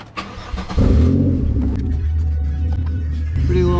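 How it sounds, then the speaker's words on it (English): A 2000 Chevy Impala with a 3.4 liter V6 cranks briefly and fires up, then settles into a loud, deep, droning idle through its exhaust, close by, with a slight rise in revs near the end. "Go ahead and get this thing started so you can hear what it sounds"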